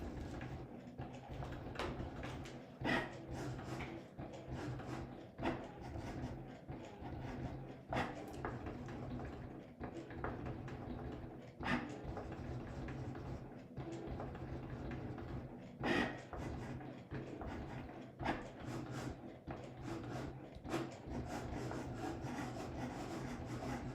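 A Cricut cutting machine working on an infusible ink ceramic coaster project gives a steady soft mechanical whir with repeated rubbing, sliding passes and occasional louder clicks, fairly quiet and close.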